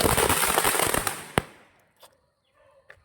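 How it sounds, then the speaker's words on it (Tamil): Deepavali firecrackers crackle in a dense, loud burst that ends in one sharp bang, then a few faint scattered pops follow as the sound dies away. "எங்க எல்லாமே வெடிச்சு போச்சு"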